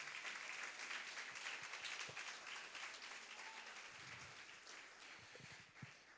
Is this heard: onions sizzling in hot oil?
no